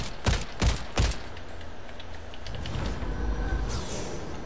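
Shots from a shooter video game ring out as three sharp, loud bursts early on, followed by lower scattered firing and background noise with no talk.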